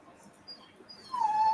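A dog whimpers at home, a faint rustle at first, then a thin high whine rises and holds near the end, close and fairly soft.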